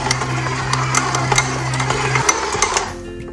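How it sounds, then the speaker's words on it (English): A stand mixer kneading challah dough, a steady loud motor whir with a rhythmic clicking, close and continuous, a low hum dropping away near the end. "we're going to put the mixer back on again for 5 more minutes"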